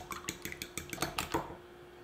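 Fork or small whisk beating eggs with salt and pepper in a bowl, a quick steady rhythm of close tapping strokes for about a second and a half, then quiet.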